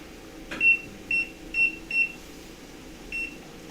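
A kitchen timer beeps while corn boils, five short clear electronic beeps in two groups, four fairly quick then one after a pause, over quiet kitchen background.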